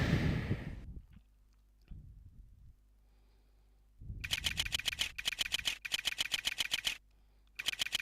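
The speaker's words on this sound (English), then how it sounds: "Classic typing noise." Typewriter key clatter from the Sega CD game Snatcher, quick bursts of rapid mechanical clicks in runs with short pauses, loud and close, following a quiet opening with low background tones.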